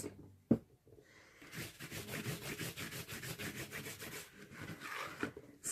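Dry cloth rubbing and polishing a mixed-media art journal page, a steady close scratchy rasp of quick back-and-forth strokes running several seconds after a sharp knock at the start.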